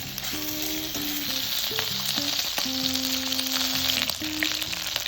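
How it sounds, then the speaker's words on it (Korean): Market Kurly yuringi chicken shallow-fries in cooking oil with a steady, close, crackling sizzle, while music plays softly in the background. "식용유로 살짝 튀기듯이 조리합니다."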